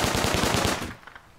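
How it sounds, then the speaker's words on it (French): A custom SMG fires a rapid full-auto burst in the video game Rust, loud and evenly spaced for under a second before cutting to quieter tail noise. "Voilà, là j'ai fait un full auto"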